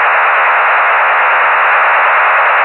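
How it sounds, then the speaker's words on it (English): Steady roaring broadband noise from a shortwave radio receiver, attributed to NATO transmissions, a dense unbroken static hiss filling the band at constant loud level throughout, with no voices. "What these are specific transmissions from NATO."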